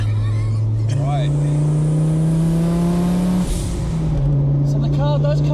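A 510 bhp Audi 80 cabriolet pulls hard on boost, its engine note rising steadily as it accelerates, then briefly dropping with a gear change before climbing again, loud and close from inside the car.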